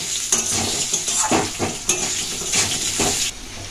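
Diced potato cubes dropped into a hot frying pan for a thin koi fish curry, a close, bright sizzle with several sharp spattering bursts and light scraping of a utensil against the pan.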